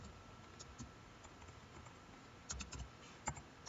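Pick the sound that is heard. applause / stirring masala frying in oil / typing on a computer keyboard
typing on a computer keyboard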